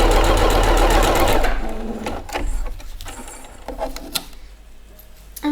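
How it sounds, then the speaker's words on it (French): A sewing machine runs a straight-stitch seam on fabric, with a loud, fast steady whir for about a second and a half, followed by scattered clicks and handling noises. "on va faire une petite couture au point droit de chaque côté."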